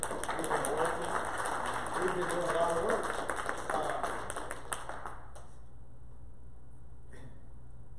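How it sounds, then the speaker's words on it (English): A church congregation claps hands together in a dense, rapid patter for about five seconds before it stops abruptly. A preacher's voice talks over the clapping. "Y'all give yourself a hand clap."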